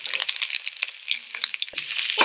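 Ginger and garlic fry in hot oil, a bright, steady sizzle with crisp crackles and popping spatters that run continuously and close up, with no talking.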